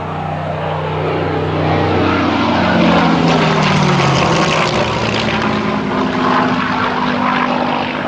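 A Spitfire Mk IX fighter's propeller engine roaring close by at an airbase, a loud sustained drone whose pitch shifts as the aircraft passes, filling the whole stretch with no speech.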